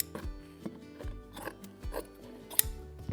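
Scissors snipping through upholstery fabric at the corner of a dining chair during reupholstering, several crisp close cuts in an uneven rhythm, quiet and alone without talk.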